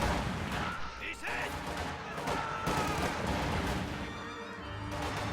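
MG42 machine gun fire in a World War II strategy video game, bursts of rapid shots mixed with other distant gunfire and battle noise, dense and continuous.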